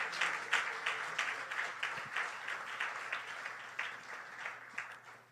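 A church congregation applauds in steady, rhythmic clapping that sounds fairly distant and soft, with no clear cheering or talking over it.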